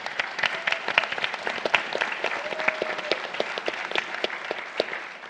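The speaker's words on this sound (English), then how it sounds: "He deserves a round of applause." Audience applause at a public event on California climate and clean energy goals, a steady patter of many hands clapping throughout at moderate level, with no talk over it.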